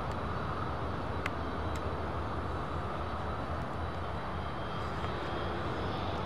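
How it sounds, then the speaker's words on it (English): A Boeing 747 freighter taking off at an airport, heard as a steady, broad engine roar held at a distance throughout, without talk. "Denise Brennan, can't wrap my head around how that thing gets off the ground"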